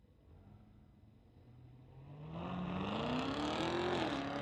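A race car at a street legal drag racing night accelerates hard, its engine note climbing steadily in pitch and growing louder over a few seconds, with no voices.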